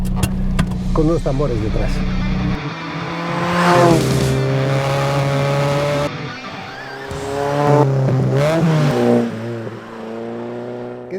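A classic Ford Fiesta XR2 engine drones steadily as the car is driven, rising and falling with revs and shifts, close and fairly loud beneath someone talking over it.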